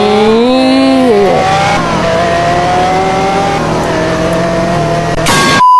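Race cars from a Roblox showdown, a Lamborghini against an Isuzu D-Max, rev loudly and continuously, their engine pitch dipping and climbing before a sharp surge at the end.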